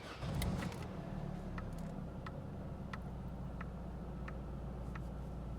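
A car engine rumbles low and steady inside a garage as the vehicle is brought out, with a few sharp clicks and knocks near the start and scattered small ticks over the continuous drone.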